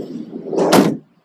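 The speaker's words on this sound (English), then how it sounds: "Sliding door all standard on it." A van's standard side sliding door rolls along its track and thuds shut, a single close, loud movement lasting about a second and then falling silent.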